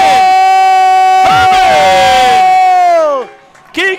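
After a Buffalo Stallions goal in an NPSL soccer match against Ambassadors FC Ohio, a loud stadium crowd roars and cheers in one continuous swell, with strong sustained tonal voices, before the noise fades and a short burst follows.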